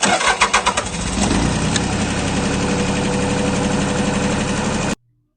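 A tractor engine is cranked with a screwdriver jammed in the broken ignition. Several rapid starter chugs fire and catch, and it settles into a loud, steady, rumbling idle up close before cutting off abruptly.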